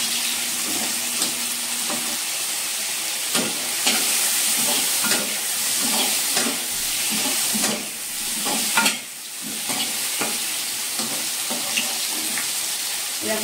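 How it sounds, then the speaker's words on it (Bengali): Brinjal sizzles in hot oil in a pan on a gas stove, a steady close frying hiss broken by scraping and clinking stir strokes throughout, with no talk. "বেগুনটা হালকা ভাজা হয়েছে"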